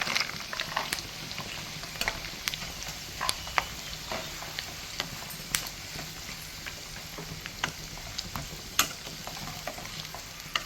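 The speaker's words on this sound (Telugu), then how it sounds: "అన్నీ వేసి వేపుకుంటున్నాము" Green chillies, curry leaves, black pepper and cumin frying in ghee give a steady, soft sizzle, broken by scattered clicks and taps as the pan is stirred, with no voices.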